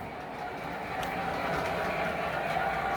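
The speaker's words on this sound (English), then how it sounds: "As you can see, I've got a freight train running today" A model freight train rolls steadily along its track, giving a continuous close rumble with a faint rattling texture that swells slightly partway through, with no voices.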